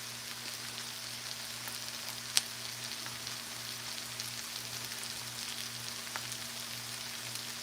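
Shrimp fry in a pan as a soft, steady sizzle and crackle with one sharp click near the start, faint and continuous over a low electrical hum, with no talking.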